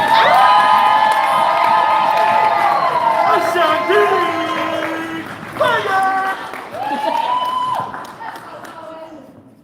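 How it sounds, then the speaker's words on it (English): An audience at a downtown Las Vegas poetry slam festival claps and cheers for a poet, dense, loud applause with shouts and whoops throughout, gradually thinning toward the end, with voices calling out over it. "clapping for our second sack poet of the night"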